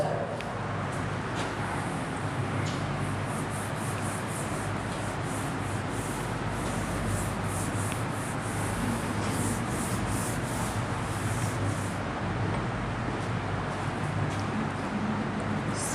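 A question written on a board being rubbed out, a continuous scrubbing and wiping noise that stays steady and close for the whole stretch, with no talking.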